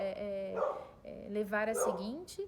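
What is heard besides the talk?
dog barking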